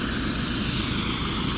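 A helicopter landing and taking off on Braden School Road in Chippewa, a close, loud, steady rotor and engine roar with no talk.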